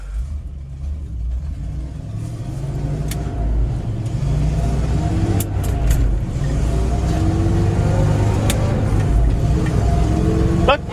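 Car wheels spinning in mud, a continuous low engine drone with rising revs held steady throughout, close and loud, with a few sharp clicks over it.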